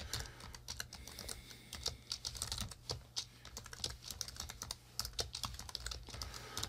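Text is typed on a computer keyboard while building a Google Sites page; a steady run of quick, light key clicks, close but quiet, over a low background hum.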